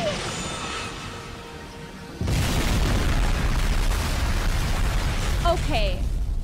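A sudden loud rumbling blast of video game explosions kicks in and continues as a dense roar, with a voice shouting over it.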